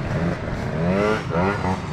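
Loud Euro 2 exhaust on a Yamaha Aerox scooter with a 5 hp sticker, revving up and down in two swelling rises, close and dominant with no talk over it.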